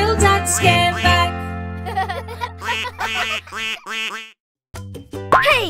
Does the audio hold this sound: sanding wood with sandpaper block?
no